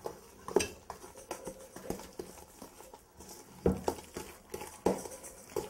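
A wooden spoon works a beaten egg into cranberry bread batter in a bowl, making irregular soft knocks, scrapes and wet slaps against the bowl, close up and without voices.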